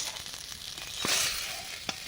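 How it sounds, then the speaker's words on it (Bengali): Snakehead (shol) fish frying in hot oil, a soft, fairly quiet sizzle that swells briefly in the middle, with a couple of faint utensil taps and no speech. "শোল মাছগুলো ভেজে নিচ্ছি।"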